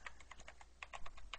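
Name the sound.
typing on a new computer keyboard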